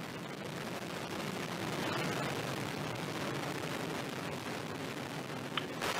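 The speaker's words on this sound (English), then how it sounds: "liftoff of the last West Coast United Launch Alliance Delta IV heavy rocket carrying NROL-91 for the National Reconnaissance Office" Delta IV Heavy rocket carrying NROL-91 rising from the West Coast launch site, a continuous broadband roar that swells slightly mid-way and holds steady, with a faint crackle near the end.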